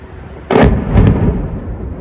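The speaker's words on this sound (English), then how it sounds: "Footage of the strikes and explosions is being posted online." A heavy explosion from a military strike on a plant booms suddenly, followed by a second blast and a long rumbling roll of echoes, loud and dominant.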